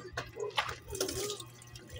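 Water splashes and drips in short bursts as a child bathes a dog, close by, with faint voices talking in the background.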